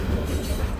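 A freight train rolls through hot Mexican desert with a steady, loud low rumble and roar of wheels and cars, continuous and unbroken, with no voices.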